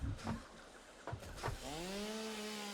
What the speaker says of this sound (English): if you're close to the right kind of boulder and you chainsaw, the boulder goes away